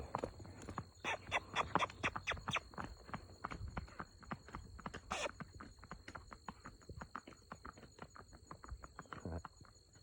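Rapid rhythmic hoofbeats of a loping 15-year-old Quarter Horse gelding thud on a road, strong at first then continuing a little farther off, with insects chirping steadily behind.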